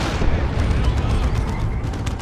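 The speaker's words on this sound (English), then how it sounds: "there's a grenade from those Dire Avengers" A grenade from Dire Avengers bursts in the video game Dawn of War II, a loud booming blast amid continuous gunfire and artillery rumble on a chaotic battlefield, with faint talk underneath.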